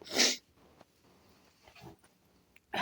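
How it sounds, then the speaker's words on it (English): A sharp nasal sniff from a woman with sinus and allergy issues opens the clip, then faint quiet breathing, and another loud sniff closes it; close and intimate, no talking. "Don't mind all the sniffles."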